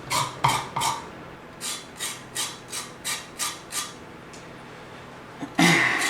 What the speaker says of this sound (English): zest of one lime